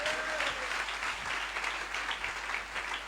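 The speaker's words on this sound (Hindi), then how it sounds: "इनके बच्चों के लिए तालियां बजाइए।" Church prayer-meeting audience clapping for a family's children, a steady dense wash of many hands at moderate level with no speech over it.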